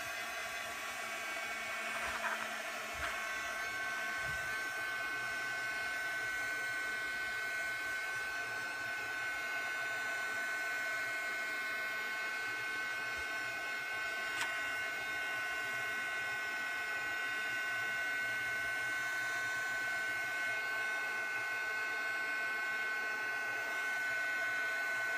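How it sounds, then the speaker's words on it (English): A heat gun blows a steady, loud whirring hiss while drying ink on a card, running continuously with a faint high whine and a few small knocks early on. "So I have my heat gun here."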